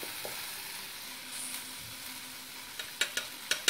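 Tomato masala for achaari aloo sizzles in oil at a low, steady level, then several sharp clicks and taps land near the end as spices go in and the pan is stirred.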